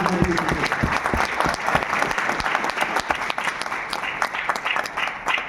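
A loud round of applause from an audience at a direct-selling motivational talk, steady dense clapping running throughout, close and full, with no voices on top.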